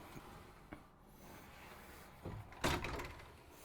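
A storage door on a 2021 DRV Mobile Suites 41 RKDB luxury fifth wheel RV swings shut, giving a soft scrape and then one firm, close-up thump as it closes in a quiet interior.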